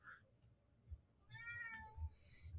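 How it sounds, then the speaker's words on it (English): A cat gives a short meow in the middle, with a fainter mew near the start, set against low background rumble and a few soft thumps; it sounds moderately close but quiet overall. "I heard that meow."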